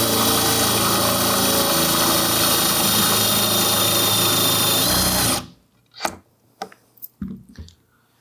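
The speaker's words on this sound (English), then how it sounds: "Let's try the plug cutter in some hardwood." A power drill spins a plug cutter into hardwood with a loud, steady whining grind for about five seconds, then stops abruptly, leaving a few soft knocks and clatters.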